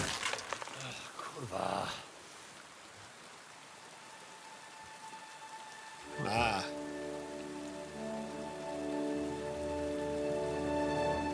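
Steady, soft rainfall in the game Kingdom Come: Deliverance II, a quiet continuous patter with brief voices and faint tonal background sounds.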